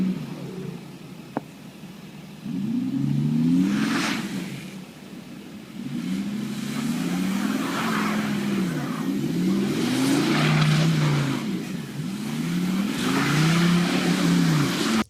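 A VW Touareg V10 TDI diesel SUV drifts in snow, its ten-cylinder engine rising and falling in repeated revving surges. The engine is fairly close and loud, with a quieter idle stretch between bursts.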